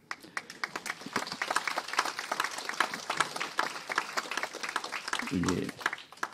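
Audience at a university graduation ceremony breaking into a sustained round of applause, many hands clapping densely for several seconds, with a voice briefly heard near the end.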